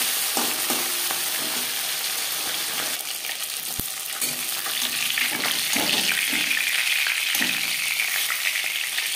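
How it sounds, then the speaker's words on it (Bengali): Tilapia fish sizzles and spits in hot oil in a pan, a constant loud hiss with occasional crackles and a sharp tap of a utensil, with no talking. "একটা সাইড ভাজা হলে অপর সাইডটা উল্টে দেবে।"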